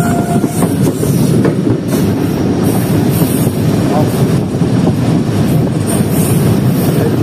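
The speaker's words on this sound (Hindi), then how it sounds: "हमारी ट्रेन पहुंच रही है नासा रेलवे स्टेशन पर" The Rehman Baba Express rolls into Nasa railway station with a loud, steady rumble and rhythmic clickety-clack of wheels on rails, close and continuous, with faint voices in the background.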